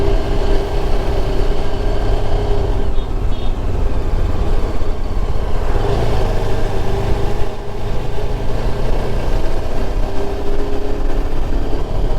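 A loud, steady engine roar with a rough, rumbling exhaust tone holds throughout, from a motorcycle with a silencer exhaust running close by on the Agumbe ghat roads in Karnataka.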